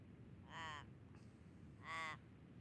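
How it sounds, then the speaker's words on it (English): Two loud harsh caws from a crow, about a second and a half apart, carry over steady ocean and wind noise on the coast at Crowdy Head and Harrington. "There's the crow there."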